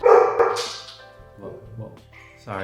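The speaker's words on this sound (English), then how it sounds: "that's the dog." A dog barks loudly a couple of times up close, followed by quieter sounds and a person speaking briefly.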